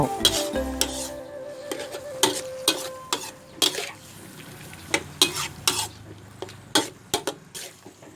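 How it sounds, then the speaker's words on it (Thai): Squid tentacles and seasoning are stir-fried in a pan, with a sizzling bed under repeated loud scrapes and clanks of a utensil against the metal, close and irregular. "ก็ผัดให้เครื่องปรุงเข้ากับปลาหมึกนะเจ้า"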